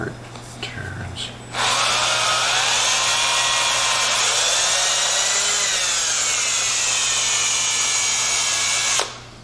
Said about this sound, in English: And this is just Scotch-Brite, it should just clean it up.